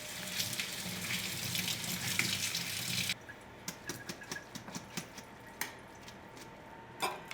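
A kitchen tap runs hard into a sink while a chopped onion is drained and rinsed. The flow then stops, leaving a series of soft wet squishes and clicks as the onion is handled.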